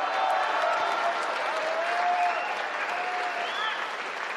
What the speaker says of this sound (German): Einen Applaus für unseren Clubobmann